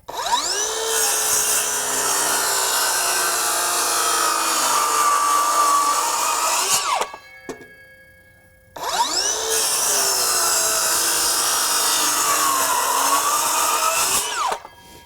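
A Greenworks 24-volt 7-1/4-inch brushless circular saw running on a 4Ah battery makes two long, loud, high-pitched cuts through wood, each starting with a spin-up and ending in a falling whine, separated by a short quiet pause.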